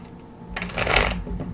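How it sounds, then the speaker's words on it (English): A deck of playing cards is riffled once, a quick crisp burst of fluttering card snaps lasting about half a second, close and clear over a quiet room. "I take the deck after they do that and just shuffle it a couple times"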